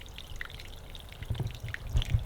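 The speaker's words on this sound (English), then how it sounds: "You can just hear like the beautiful sound of the water over there." Water trickling gently in a bonsai garden at night, soft and fairly distant, with faint irregular drips and splashes that grow a little louder toward the end.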